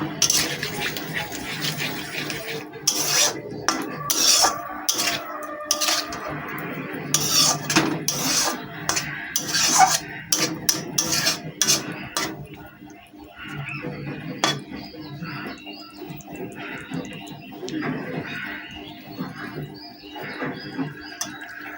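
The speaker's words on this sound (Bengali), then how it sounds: "তো আমি ভালো করে কষিয়ে নিচ্ছি" Egg curry with potatoes is stirred and sautéed in a pan, with a busy run of metal spoon clanks and scrapes against the pan that later thins into softer, sparser stirring.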